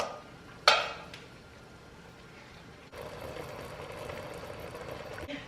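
Browned beef scooped out of a stew pot into a bowl and vegetables tipped in, a sharp clatter of utensil on pot followed by a low steady sizzle and simmer, no voices.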